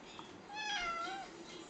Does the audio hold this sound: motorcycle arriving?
no